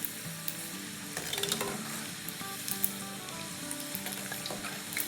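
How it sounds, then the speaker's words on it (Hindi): Macaroni pakoras deep-fry in hot oil with a continuous crackling sizzle, occasional louder pops and soft stirring, close and moderately quiet, with no talking. "तो बस इसका एक अच्छा सा सुनहरा कलर आ जाए जब तक फ्राई करेंगे"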